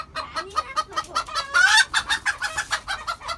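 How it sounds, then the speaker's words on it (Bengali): A hen clucks repeatedly in a rapid, rhythmic series, joined by loud squawking cackles of the kind a hen gives while laying eggs. The bird is close and fairly loud, with no talking. "তো ওইদিকে মনে হয় মুরগি ডিম পারছে রে"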